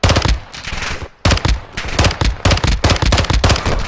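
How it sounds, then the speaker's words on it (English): Gunfire in Call of Duty Modern Warfare 2 DMZ: loud, close automatic bursts of rapid shots, a short pause near one second, then more sustained firing in choppy volleys. "Somebody else is shooting me."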